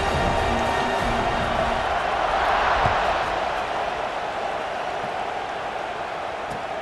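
A stadium crowd roars at kickoff in the College Football 26 video game, a dense, continuous wash of cheering that swells slightly midway and then holds steady, with no commentary over it.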